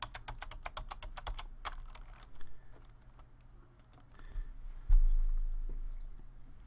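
A login is typed on a computer keyboard: a quick run of crisp key clicks, then sparser taps and a heavier thump near the end, close and fairly quiet with no talking.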